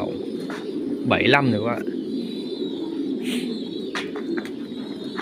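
Pigeons in a breeding loft give a clear, close coo, with softer bird sounds around it, while someone talks throughout.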